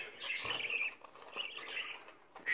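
A pet budgerigar chirps in bright, busy bursts at close range, with soft rustling that could be wing flaps; no voices are heard.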